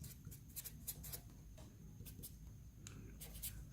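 A pen scratches across paper as a math equation is written out, soft rhythmic strokes in quick short bursts, close but quiet, with no one talking.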